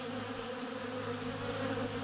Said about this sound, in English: I cannot see any bees arriving with pollen on their legs, which lets me think that these are invading bees